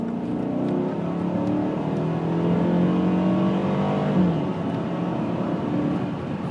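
A Ford FG Falcon XR8 engine hums steadily and builds as the car accelerates onto a freeway, a continuous low drone with rising revs heard from inside the cabin.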